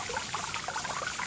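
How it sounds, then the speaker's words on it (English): Water flowing and trickling outdoors in a natural setting, a soft, continuous babble with bright splashy detail, steady and fairly quiet throughout. "Fill your ears with the sound of water."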